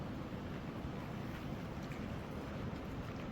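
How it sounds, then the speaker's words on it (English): Strong wind gusting across an open outdoor area on a heavy windy day, a steady broadband roar and rush buffeting the microphone, with no voices. "Some of the strong wind is coming through the eastern part of United States."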